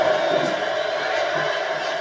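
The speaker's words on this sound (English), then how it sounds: "And this crowd, you're right, it's ruckus here tonight." Crowd at a wrestling event cheering, a dense, steady roar of many voices filling the hall, loud and sustained for the whole short stretch.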